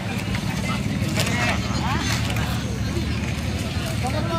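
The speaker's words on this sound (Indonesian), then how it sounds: "Sekarang kita memakai kendaraan mesin Yamaha 250/2." A fully loaded passenger boat driven by twin Yamaha 250 hp outboard engines gives off a steady, loud engine roar mixed with wind and water noise, while people talk over it.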